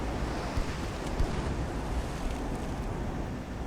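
Rough, stormy sea in the naval game Ultimate Admiral: Dreadnoughts, set in 1890: a steady, dense roar of crashing waves and gusting wind, continuous and fairly loud, with no voices.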